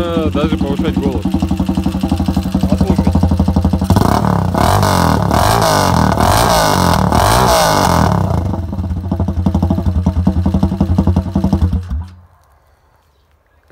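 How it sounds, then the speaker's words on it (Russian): An Irbis TTR 250 R motorcycle with a loud exhaust idles and blips steadily and close up, revving harder in the middle, then cuts off into near silence near the end. "Давайте заведу. Выхлоп громкий"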